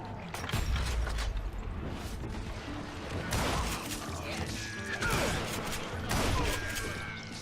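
Rifle gunfire in the Western shooter Call of Juarez Gunslinger during a shootout against dozens of deputized gunmen: loud, booming shots in irregular bursts, with overlapping blasts and clattering impacts over a busy game soundscape.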